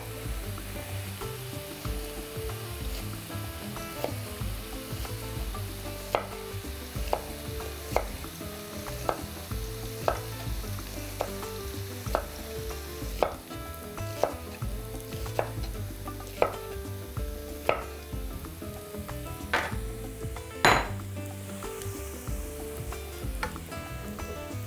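Two sliced onions sizzle in a pan of oil already seasoned with mushrooms, with a steady hiss and a few sharp utensil taps and scrapes now and then as they are stirred. Nobody speaks.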